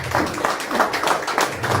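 A brief, continuous burst of audience clapping at an awards ceremony for unorganised sector workers, many hands blending into an even, moderately loud patter.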